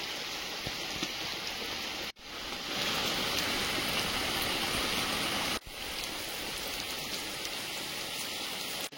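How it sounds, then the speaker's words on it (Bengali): Heavy rain pours steadily in an outdoor garden cooking spot, a loud, dense wash of falling water that runs without pause, broken only by two brief cuts. "প্রচুর বৃষ্টি হচ্ছে, কালকে যা হয়েছে তার চেয়েও মনে হয় বেশি হচ্ছে।"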